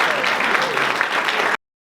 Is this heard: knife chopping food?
no